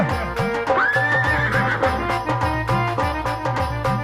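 A horse gives a loud, rising whinny over rhythmic music with steady beats during a devotional Ramamandal folk performance, with repeated snorting and clip-clop-like knocks.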